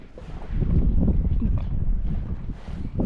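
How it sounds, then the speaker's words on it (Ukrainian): Gusting wind buffets the microphone on a moving boat while trout fishing, a low, rumbling roar that swells and fades in uneven waves. "Дує вітер, але не холодно."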